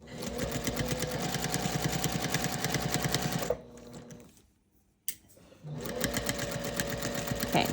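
Domestic sewing machine stitching fabric for a quilted gift bag, a steady close whirring buzz that stops briefly then starts again, with someone talking over it.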